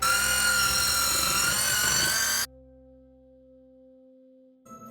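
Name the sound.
handheld electric whisk mixing cupcake batter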